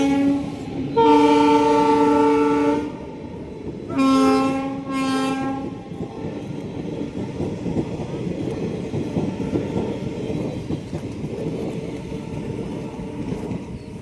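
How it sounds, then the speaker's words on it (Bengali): A train on the track outside a house sounds two long, loud horn blasts, then rumbles past with a continuous rolling clatter of wagons that fills the rest of the clip. "এদিকে ট্রেন চলে আসতেছে আমার বাবার বাড়ির সামনের রাস্তায়, যে ট্রেনের লাইন দেখতে পাচ্ছেন"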